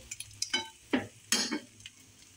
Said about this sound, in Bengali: আবার ডিম ভাজছি।